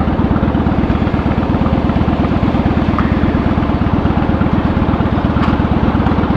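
A Honda Shadow motorcycle engine runs steadily and loudly up close, with an even, low throbbing idle rumble that holds without a break throughout.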